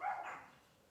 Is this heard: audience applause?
no